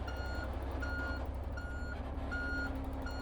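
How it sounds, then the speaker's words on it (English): A long Volvo truck with its trailer attached sounds a steady series of reversing beeps, four or five evenly spaced tones over a low, constant engine idle, with no one talking. "It's me reversing the truck."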